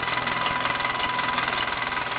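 A Meccano MEC1 model steam engine runs steadily, a continuous rapid chuffing and mechanical rattle close by with no talk.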